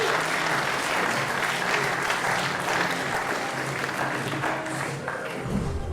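Audience members clap and cheer for panellists coming onto a stage, with a thick, continuous burst of applause that holds steady and then tapers off near the end.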